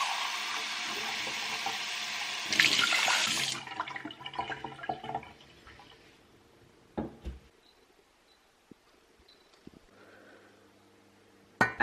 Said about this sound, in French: Je verse ça là-dedans et je vais rajouter le double d'eau.